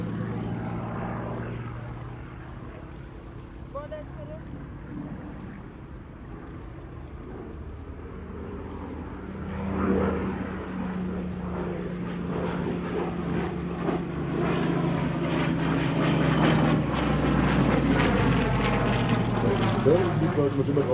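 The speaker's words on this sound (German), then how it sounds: "Klasse präsentiert diese wunderschöne Hawker Hurricane." A vintage Hawker Hurricane propeller fighter flies a display at an oldtimer air show, its piston engine droning steadily and swelling louder as it passes nearer, with a commentator speaking over the sound.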